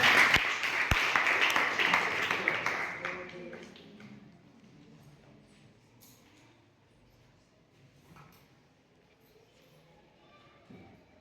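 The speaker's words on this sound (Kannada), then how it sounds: "ಜೋರ ಚಪ್ಪಾಳೆ ತಗೊಳ್ಳಿ" A class of students applauds loudly for a few seconds, a dense burst of clapping that fades away, followed by quieter room sounds and a teacher talking.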